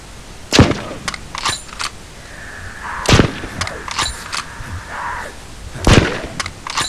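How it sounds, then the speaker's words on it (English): Sniper rifle shots in the zombie game ZombiU, fired at an armoured zombie: three sharp, loud single cracks spaced a few seconds apart, with faint game clatter and a brief mechanical hum between them. "Out with a sniper's rifle"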